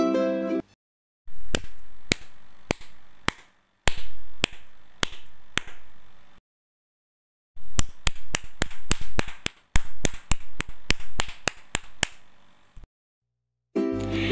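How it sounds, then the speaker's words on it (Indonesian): Hands clap out a rhythmic beat in sharp, close, evenly spaced claps, in phrases of four to five separated by silent pauses, with denser faster groups later on. "Salah satunya bisa dengan bertepuk tangan."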